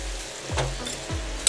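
Liver curry sizzles steadily in a pan as a spoon stirs through it, with two distinct scraping sweeps against the metal over the constant frying hiss and a brief clatter at the end.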